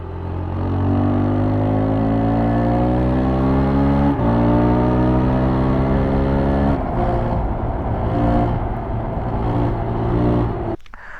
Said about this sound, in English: how's the engine sound? Well, listen to it.